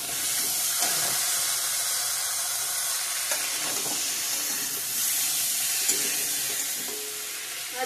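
Chopped tomatoes go into a hot pan for a vegetarian mixed vegetable dish, giving a loud, steady, close sizzle and hiss with a few faint clinks from stirring.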